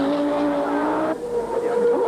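An Audi Quattro rally car at a 1988 rally revs hard and accelerates away, its engine climbing in pitch before a gear change, loud and close with a roar that carries on afterward.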